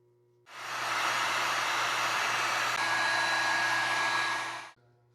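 A heat gun runs for about four seconds while shrinking heat shrink tubing over a crimped wire connector for a semi truck battery disconnect switch. It makes a loud, steady blowing rush that starts and stops abruptly, with no voices.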